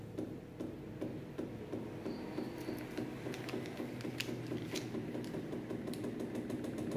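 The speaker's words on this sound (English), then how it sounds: "Start the motor." A Newman motor runs steadily with a rapid, rhythmic ticking and clicking over a low mechanical hum, holding an even loudness for the whole stretch.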